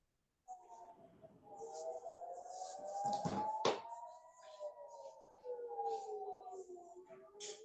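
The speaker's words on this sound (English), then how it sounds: "Sounds like there's a siren." An air-raid style siren sounds outside, its wailing tone gliding up and down steadily for several seconds at moderate, somewhat distant volume, with a sharp knock partway through.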